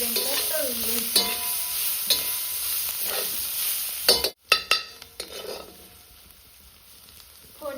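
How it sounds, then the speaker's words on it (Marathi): Chopped onion frying in oil in a pan on a village wood-fired chulha, with steady sizzling, stirring scrapes and a few clanks of a metal spoon against the pan; no talking. "कांदा पण आपल्याला लाल सोनेरी कलर येईपर्यंत तळून घ्यायचा"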